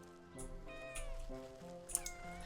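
Several cats meow and caterwaul in the video game Wytchwood, with overlapping, drawn-out tonal cries that rise and fall, fairly close and clear with no talking.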